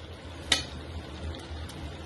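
Paneer stirred into a frying pan of cooking gravy, a soft, low sizzle broken by one sharp clink of a utensil against the pan and a few faint later scrapes, with no voices.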